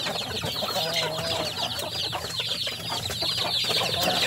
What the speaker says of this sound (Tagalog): Ito po yung ating bagong sisiw nga nabili.